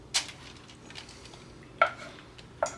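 Cooked Indian sweet emptied out of a parchment-lined pan: three sharp metallic clatters and scrapes of pan and utensil, spaced apart over quiet kitchen background.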